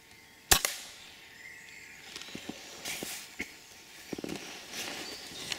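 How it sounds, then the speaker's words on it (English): A single sharp air rifle shot cracks out early during squirrel pest control, followed by faint rustling and a few soft ticks in an outdoor setting. "I've got the gun up and ready for a shot"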